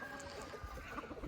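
Andijan black chickens on a small farm holding about 2,500 birds in a 20 by 8 metre space give off soft, faint clucks and murmurs in a brief, low burst.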